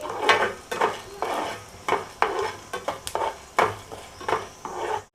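Chana dal and spices fry and are stirred in a pan for Udupi sambar, with repeated scraping strokes and a soft sizzle pulsing under each stir, with no one talking.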